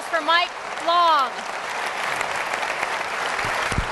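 Audience applause fills the room after a few voiced calls, a steady dense clapping that holds for several seconds at a fairly loud, even level.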